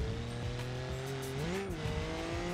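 An old car in BeamNG.drive accelerates hard, its engine note climbing and wavering under load with tire squeal mixed in, loud and close with no voices.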